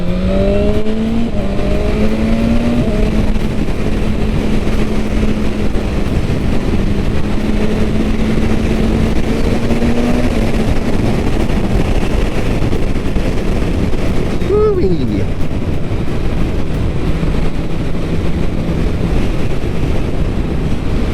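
2022 BMW S1000RR M Sport motorcycle engine in race mode, a steady drone with gentle rises in pitch over heavy wind rush, heard close throughout with a brief sharper revving blip near the end.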